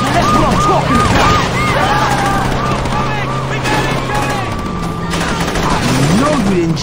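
Rapid gunfire in the 2006 game Saints Row, dense and continuous, layered with engine hum, sirens and a raised voice in a chaotic street fight.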